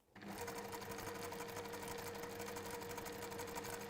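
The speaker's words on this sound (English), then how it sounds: "you're always sewing in a straight line" A sewing machine stitching a straight line starts up and runs continuously at a fast, even rhythmic pace, close and steady with no pauses.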